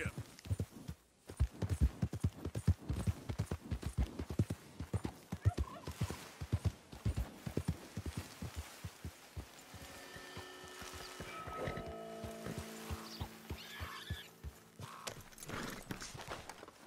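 Horse hooves clip-clop in a quick, regular rhythm at close range, gradually fading as other animal calls and background sounds rise toward the end.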